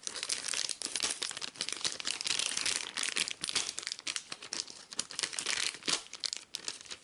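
Plastic wrapping on a board game pack being torn open and crumpled up close, a continuous dense crinkling and rustling with no talking.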